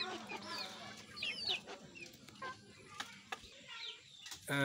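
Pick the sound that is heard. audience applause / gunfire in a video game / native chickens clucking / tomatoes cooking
native chickens clucking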